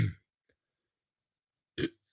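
A single loud, close burp at the start, followed by a short pause of near silence and then another brief vocal sound near the end.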